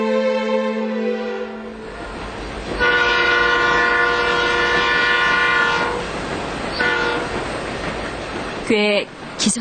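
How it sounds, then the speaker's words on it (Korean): A train whistle draws nearer in a Korean radio drama, sounding as long, loud blasts over a steady rolling rumble of rail traffic, with a sharp clattering burst near the end. "기적소리가 가까워질수록 가슴이 울렁거렸다."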